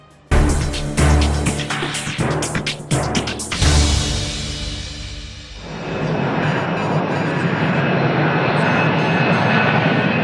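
Loud thumps and rattling give way to a steady, droning roar of jet engines heard from inside a plane cabin in flight between São Paulo and Atlanta.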